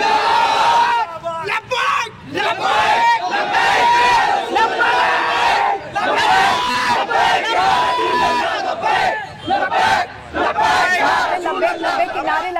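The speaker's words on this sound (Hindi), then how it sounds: "सुनवा रहे हैं आपको कैसे वो हंगामा हो रहा है।" A large crowd in uproar, loud and continuous, with many voices yelling and chanting slogans in unison, rising and falling in waves with brief dips.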